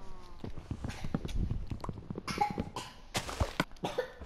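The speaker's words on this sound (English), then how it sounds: "it's my little brother's the one that's going to be coughing" A little brother coughing in a string of short, sharp bursts at close range, with a few louder coughs and throat noises toward the end.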